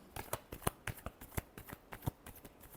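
Tarot cards being shuffled by hand, a quick series of crisp riffling snaps and taps at close range.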